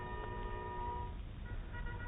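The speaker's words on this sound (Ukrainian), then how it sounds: "над Дніпром не змовкали гудки." Steamboat horns hoot in the distance over the Dnieper River in Kyiv, sustained tones, faint and overlapping, with a steady low murmur underneath.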